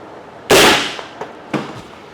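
A hail cannon fires a solid ball at 85 mph against a RoofiVent roof vent flange, one sharp loud blast that decays quickly, followed by a few smaller knocks and rattles.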